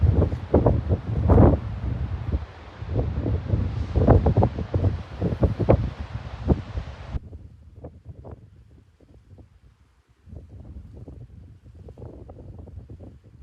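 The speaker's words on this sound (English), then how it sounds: "The wind did make the going tough." Strong wind gusts buffet the microphone outdoors near an old Viking longhouse bothy, a loud roaring rush for the first seven seconds, then dropping to quieter, uneven gusts and rustling.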